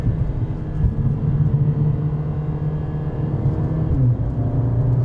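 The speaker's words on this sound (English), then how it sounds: "that's how fast this thing shifts and changes though, and downshifts as well." The engine of a 2020 Mercedes CLA45 AMG drones as a steady, close, low hum from inside the car, and its pitch drops noticeably toward the end as it shifts.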